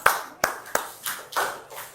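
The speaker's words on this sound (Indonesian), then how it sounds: "tepuk tangan kelompok 4" A small classroom group applauds a student presentation team with a few loose, uneven claps, about six distinct bursts close by, with no talk over them.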